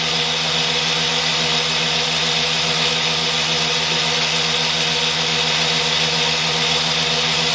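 Series-wound 6-pole, 2-coil electric motor spinning fast at doubled voltage, a loud, steady, unbroken whine with a strong hum and bright buzzing overtones throughout.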